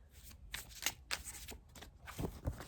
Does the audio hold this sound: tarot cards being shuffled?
yes